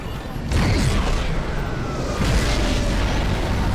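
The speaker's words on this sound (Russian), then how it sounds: "Прицелься из атомной пушки." Atomic cannon in the video game Crysis fires and explodes: a loud, deep boom at about half a second rolls into a sustained rumbling blast, with a second surge of roaring noise near the two-and-a-half-second mark.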